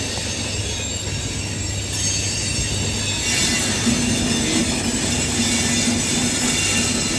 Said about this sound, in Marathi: ट्रेन जाते ना तिचा आवाज खूप कर्कश होतो.